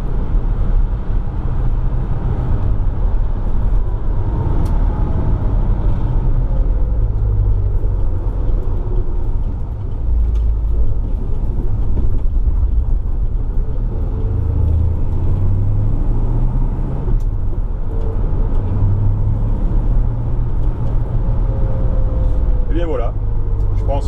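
The V8 engine of a 1965 Ford Mustang convertible drones steadily with low road rumble throughout, while a person talks over the interior hum.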